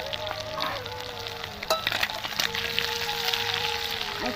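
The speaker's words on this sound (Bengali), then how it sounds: "আমার চিংড়ি মাছটা ভাজা হয়ে গেছে" Prawns sizzle steadily in hot oil, a dense continuous frying hiss with a couple of sharper pops and a faint tonal whine running underneath.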